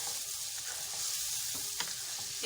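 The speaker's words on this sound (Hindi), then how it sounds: "उसमें थोड़ा सा पानी डाल के" Chicken frying in a pan with a ground paste of coriander, mint and green chilies thinned with a little water, a steady close sizzle with faint stirring scrapes and a couple of sharp clicks near the end.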